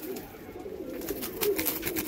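A blue chequer racer pigeon coos in low, repeated murmuring phrases, close by and fairly quiet over faint background noise.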